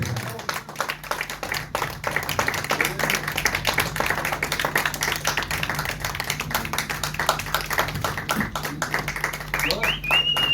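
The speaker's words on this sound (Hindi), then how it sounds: "जोरदार तालियां होनी चाहिए।" A crowd at a Tiranga musical housie event claps steadily throughout, dense and continuous applause with a voice speaking over it.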